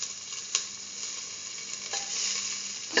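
Ginger fries in oil in a pan with a constant close sizzle, broken by a few sharp stirring scrapes and louder bursts.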